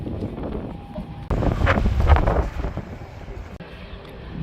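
Strong wind at the foot of a mountain in Gibraltar roars against the microphone in loud, uneven gusts, swelling sharply partway through before settling to a steadier rush.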